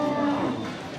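At the Mallikbari cattle market in Bhaluka, a cow lets out one loud, close, sustained low moo that fades slightly toward the end, with faint crowd murmur behind it.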